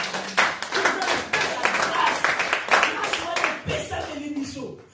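Congregation clapping in rhythm during worship in a church, a steady run of claps with voices and singing mixed in throughout.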